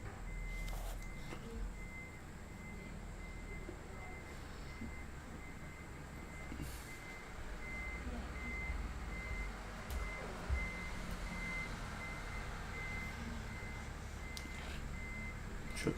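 A truck reverses in a nearby street, its backup alarm beeping in a steady repeating rhythm at a distance under a low engine rumble, with scattered clunks and knocks.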